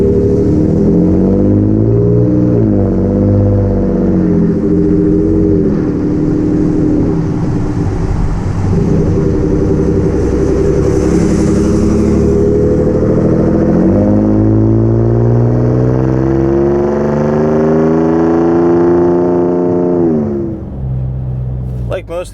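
A 2017 Ford F-150 Raptor with a Ford Performance dual rear exit touring cat-back exhaust, with resonator, muffler and chrome tips, cruises at highway speed. Its engine drones steadily and deeply from inside the cab, with gentle rises in pitch.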